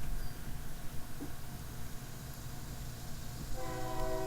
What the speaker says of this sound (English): In the distance, we hear Canadian National's rail resurfacer heading through Conneautville, Pennsylvania.